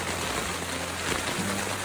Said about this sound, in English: So, you can hear the rain.